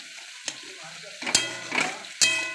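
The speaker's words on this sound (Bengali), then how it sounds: "কড়াই তেল দিয়েছি, তেল দিয়ে 5 ফোড়ন দিয়েছি আর কাঁচা লঙ্কা কেটে দিয়েছি, দিয়ে টমেটো কটা দিয়ে দিলাম" Chopped tomatoes and green chillies fry in oil with five-spice seeds in a wok, sizzling under a few sharp stirring scrapes and clanks up close.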